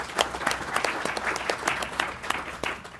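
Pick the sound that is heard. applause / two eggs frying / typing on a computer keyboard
applause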